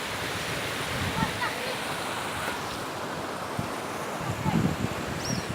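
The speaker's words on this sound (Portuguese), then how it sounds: "Cachoeira do Corocochó." The Corocochó waterfall in Piabetá, Rio de Janeiro, gives a constant broadband rush of falling water that stays steady and fairly close throughout, with faint distant voices now and then.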